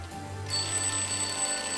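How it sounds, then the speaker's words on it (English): An alarm clock goes off inside a rubbish bin in the video game Lost Horizon, a thin high electronic beeping that starts abruptly and keeps going steadily, fairly faint over a low hum. "When the alarm goes off, I better not be here."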